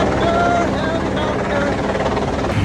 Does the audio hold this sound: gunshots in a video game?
no